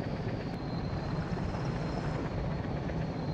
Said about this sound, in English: My chopper stops flying upside down any day now.